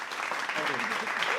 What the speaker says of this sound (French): vous pouvez les applaudir et vous pouvez vous applaudir